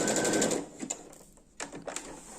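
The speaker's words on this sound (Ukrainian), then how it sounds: "І ставлю коротеньку, маленьку закріпку шов в шов." A sewing machine makes a short backtack stitch on elastic for Brazilian-style briefs: a brief, close run of fast needle strokes for about half a second, followed by a few quieter clicks and taps.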